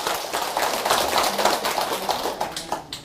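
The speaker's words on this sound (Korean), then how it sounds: "박수 한번 드리세요." Audience clapping at a public Buddhist lecture recording; a short burst of uneven hand claps from a modest indoor crowd, rising to a peak and then tapering into scattered final claps.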